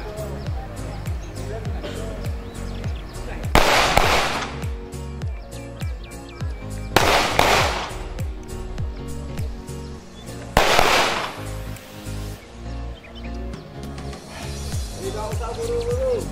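Three loud gunshots from forest police shooting practice ring out at an outdoor range, spaced several seconds apart, over a steady bed of background chatter, birdsong and ambient noise.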